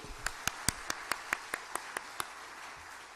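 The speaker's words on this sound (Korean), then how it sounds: "하나님께 영광의 박수." Sparse clapping at a Korean church gathering, about ten separate sharp claps spaced evenly over the first two seconds, fairly faint, followed by quiet room tone.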